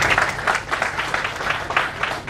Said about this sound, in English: A big round of applause for Banusekar sir.